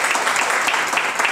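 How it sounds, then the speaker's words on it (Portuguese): Brief burst of audience applause at a public municipal council session in Jacareí, steady clapping from a room of people, no talk over it. "aplausos para ela."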